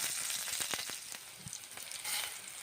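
Whole cumin seeds and green chilies sizzle in hot oil at the start of a dal, giving a continuous, fairly loud frying hiss with scattered crackles and pops throughout.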